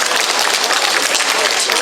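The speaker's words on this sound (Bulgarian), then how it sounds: "Аплодисменти за него." A cultural award gathering's audience gives loud, dense applause, many hands clapping continuously and close with no break.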